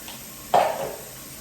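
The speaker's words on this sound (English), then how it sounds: "I'm going to clean my bowl that I had my ground meat in" A bowl that held ground meat being washed in a kitchen: one short clatter of dishware against a sink, fairly close, followed by a fading rattle and quiet room tone.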